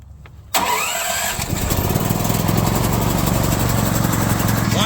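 A portable generator engine cranks and catches at about half a second, then settles into a steady, loud, close running drone that continues to the end.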